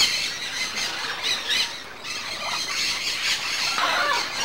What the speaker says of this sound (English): There are about 6 different varieties here, both parrots and parakeets.